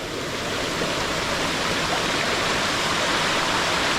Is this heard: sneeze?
no